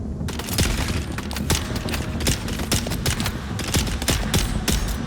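Rapid bursts of gunfire in Dune: Awakening crack in quick succession, loud and close, forming a dense fusillade of sharp shots with booming impacts and no talk.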